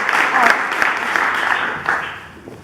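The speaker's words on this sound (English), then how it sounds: "A round of applause for Elena." A small audience applauds a volunteer named Elena at a keynote event, a short burst of clapping that gradually thins out, with some voices mixed in.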